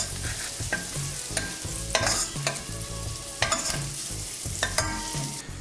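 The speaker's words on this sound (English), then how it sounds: "keeping it on a low heat so the garlic doesn't overcook. And see the bacon starting to brown as well." Pancetta and garlic frying over low heat for carbonara, a continuous close sizzle broken by sharp scraping stirs of a utensil against the pan every second or so.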